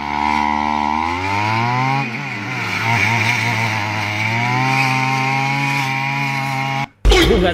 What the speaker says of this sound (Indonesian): mesin rumput, guys, mesin babat.